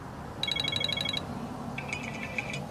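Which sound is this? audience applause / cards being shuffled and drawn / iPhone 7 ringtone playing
iPhone 7 ringtone playing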